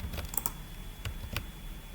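Several light keyboard keystrokes on a computer keyboard, a short burst of taps followed by a couple of isolated clicks, close and quiet over a low room hum.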